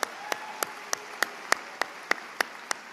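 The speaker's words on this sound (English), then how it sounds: "Let's give them another nice round of applause." Sparse, evenly spaced claps ring out at a graduation ceremony for Stevenson High School's class of 2024, sounding thin and somewhat distant over a quiet hall ambience rather than a full ovation.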